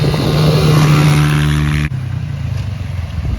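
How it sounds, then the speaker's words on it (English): A Honda dirt bike engine revs loudly with a buzzing roar, then drops abruptly to a rougher, lower idle. "So we got the bike running right."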